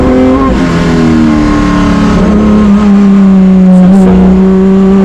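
A loud BMW M1 Procar racing engine roars close by on a track, its pitch rising and falling through gears as it revs hard.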